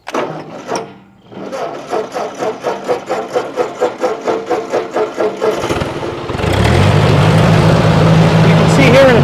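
A 1964 Ford 4000 tractor engine cranks in rhythmic, pulsing turns, then catches and settles into a loud, steady running rumble close by.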